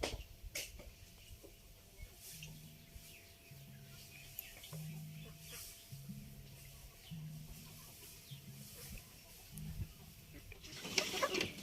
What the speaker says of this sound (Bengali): মুরগি খাইতে দিতেছে